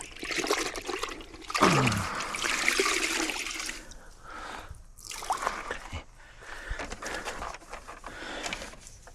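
Water sprayed to rinse bugs off a dirty truck during a rinseless wash, an uneven hissing and splashing that surges and pauses, close by and without talk.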